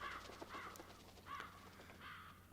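Crows cawing in a flock within the Hunt: Showdown video game, several harsh caws in quick bursts over a steady low background hum, moderately close and fairly quiet.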